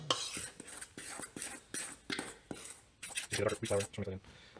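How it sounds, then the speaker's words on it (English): A spoon stirs flour and salt in a bowl for sourdough bread, producing a steady rhythm of close scraping and clinking strokes, with a faint voice briefly near the end. "So mix it with a spoon a little bit."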